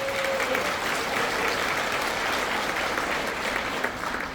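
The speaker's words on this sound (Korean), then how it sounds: "큰 박수 부탁드립니다." A large crowd applauds at a 2024 year-end gala of a Daegu and Gyeongbuk provincial association in the Crystal Ballroom of Lotte Hotel Jamsil: even, continuous clapping from many hands filling the hall, with no voices over it.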